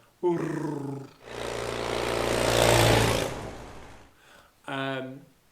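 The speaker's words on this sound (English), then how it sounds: "My 2CV goes down the road, that has unequal length exhaust headers as well" Citroën 2CV with a small flat-twin engine and unequal length exhaust headers driving along a road, a steady broadband engine and road roar rising and fading for several seconds, with someone talking briefly before and after.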